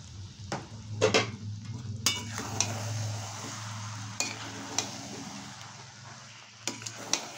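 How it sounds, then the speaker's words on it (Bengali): Spices being stirred into vegetables in a pan for keema khichuri over a low flame: soft scraping and clinking strokes come at irregular intervals over a quiet, steady sizzle, with no voices. "এবারে আমি অল্প অল্প করে এটা মিশিয়ে দিচ্ছি।"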